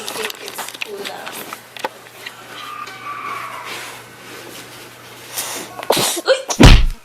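A sneeze bursts out loudly near the end, close and sharp, after a stretch of chatter and ambient noise at a beach resort in Boracay; people talk beforehand.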